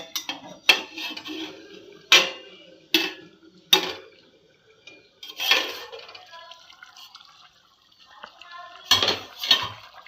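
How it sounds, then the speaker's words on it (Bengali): A metal lid comes off a pot of simmering mustard hilsa curry, giving several sharp clanks and clatters spaced apart, with quiet bubbling between them. "এবার আমি ঢাকনাটা উঠিয়ে দেব"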